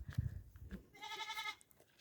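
A goat bleats once in a single drawn-out call in the early morning at a farm during milking time, preceded by a few low thuds and soft rustling nearby.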